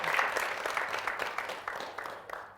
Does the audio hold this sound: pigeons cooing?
no